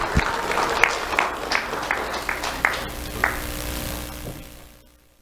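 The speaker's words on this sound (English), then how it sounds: "Let's have a round of applause for Alea Powell." Applause from an audience at a sheriff's office awards ceremony, a moderate stretch of scattered clapping with a few sharper claps that thins out and fades to quiet near the end.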